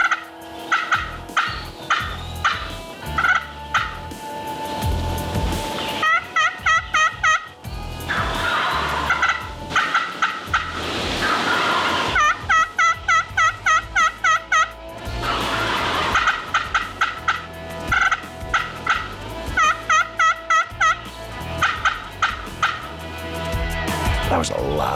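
Wild turkeys gobble repeatedly during a spring turkey hunt in New York, loud rattling calls in rapid bursts that come back and forth between birds, close and clear, with brief pauses between volleys.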